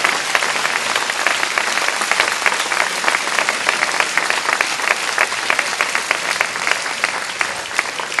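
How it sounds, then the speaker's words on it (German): Loud, steady applause fills the hall at a German trade union speech, dense, evenly sustained clapping from a sizeable audience that continues unbroken throughout. "Applaus"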